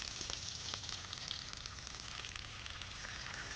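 Mustard seeds and crushed garlic frying in sesame oil, a steady close sizzle with scattered sharp crackles and pops throughout, no voices.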